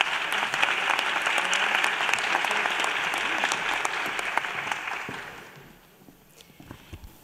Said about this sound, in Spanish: Por favor, dale un aplauso.